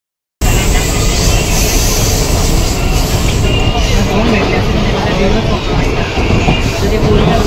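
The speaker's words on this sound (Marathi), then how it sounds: "कर्जत पकडली आहे फास्ट ट्रेन." Loud, continuous rumble inside a moving Karjat fast local train, with dense rattling and rushing noise throughout and faint passenger chatter underneath.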